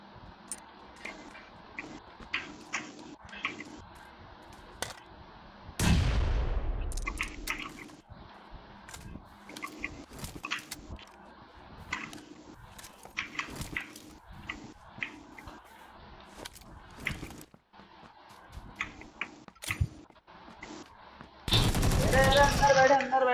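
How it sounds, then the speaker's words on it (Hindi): Gunfire tested in the PUBG Lite game on PC: repeated bursts and single shots crack at varying distances, with a loud sweeping blast and a dense burst near the end, while players talk over it. "ये तुम लोग गन टेस्ट कर रहे हो?"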